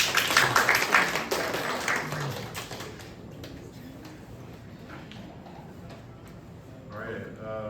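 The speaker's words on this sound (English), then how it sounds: "Round of applause." A short burst of clapping from a small group, loudest at the start and thinning out within a few seconds, followed by quieter room noise and a voice near the end.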